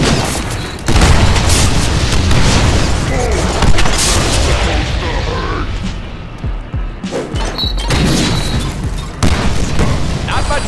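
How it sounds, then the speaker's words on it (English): Grenade blasts and crashing impacts from the Deadpool video game fill the clip with heavy, loud, dense booms and rumbling debris, with game voices speaking over the continuous din and a short lull before the barrage resumes. "Somebody's throwing grenades at me though."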